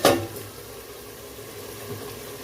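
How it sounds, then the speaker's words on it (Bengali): Onions frying in a covered pan over low gas for chicken biryani, a soft steady sizzle after a brief louder clatter at the start, quiet and continuous. "এখানে পেঁয়াজটা ভাজা হচ্ছে তো গ্যাসটা কমিয়ে রাখতে হবে"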